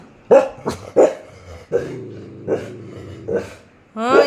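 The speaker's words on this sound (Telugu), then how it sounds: "అన్న వచ్చాడని నువ్వు మొరుగుతున్నావు కదా, నువ్వు వచ్చావని మొరుగుతున్నాడు" A dog gives several sharp, loud barks spaced unevenly over a few seconds, with a low growl in between and a final higher yelp at the end.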